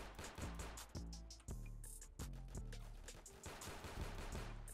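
Sharp, rapid gunshots from a gun in a Roblox hood game, repeated cracks in quick irregular bursts, close and fairly faint over a steady backing track.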